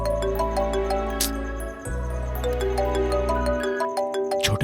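A phone ringtone plays loudly for an incoming call, a repeating bright electronic melody over a steady low tone that runs without a break.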